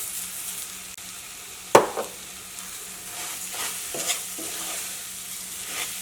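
Roasted beaten rice is tipped into a pan of mashed banana and jaggery with one sharp clatter, followed by soft scraping and stirring amid a faint sizzle.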